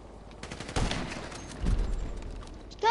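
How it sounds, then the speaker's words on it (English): Rapid bursts of gunfire from a PS4 shooter game, loud and close, with two heavier volleys standing out from lighter scattered shots across the stretch. "Stop shooting me"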